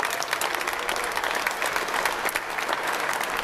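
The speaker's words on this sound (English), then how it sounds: "I think all of you deserve a round of applause for being here today." An audience at a pro-gun rally in Tallahassee applauds loudly and continuously, a dense, close wash of many hands clapping with faint crowd noise beneath.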